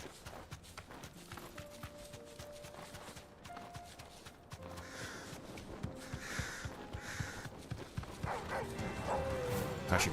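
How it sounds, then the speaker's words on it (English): Dogs barking in a video game amid hoofbeat-like steps and ambient game sounds, the barks fairly soft and intermittent, without speech over them. "Classic doggos."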